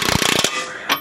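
A ratchet clicks in a quick run of sharp, close pawl ticks while tightening strut bolts on an Acura RSX front suspension, ending with a single later click.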